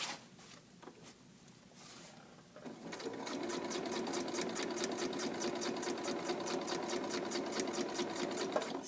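A sewing machine stitching fabric along a drawn line, starting after a few seconds of quiet handling and then running steadily with a fast even mechanical patter, close up.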